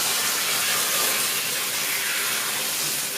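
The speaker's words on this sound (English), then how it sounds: "let's just give them a final rinse" Running water rinsing hair extensions: a steady, broad hiss of spraying water lasting throughout, close and even in level, with no talk.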